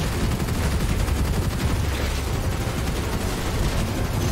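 Dense, loud gunfire and explosions from the shooter game Gunfire Reborn, a continuous roar of rapid shots and blasts with no break.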